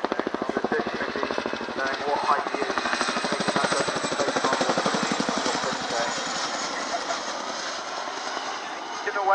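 An RAF Chinook twin-rotor helicopter performing at an air display, its loud, steady rotor thump and engine roar dominant throughout, with a commentator talking over it.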